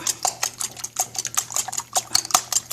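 Eggs for breakfast tortillas being mixed in a bowl, a brisk, close run of clinking, tapping utensil strokes against the bowl in an uneven rhythm, with no talking.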